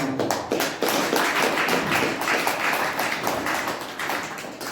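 A church congregation bursts into loud, sustained applause during a sermon, dense overlapping claps filling the room steadily for several seconds with no one speaking.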